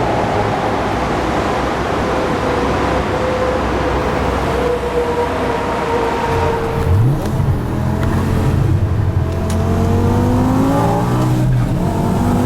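An Infinitas Hurricane RR with an 800 HP bi-kompressor V10 accelerates hard to overtake, its engine rising in a loud, sweeping roar over constant road and wind rush heard from inside the car.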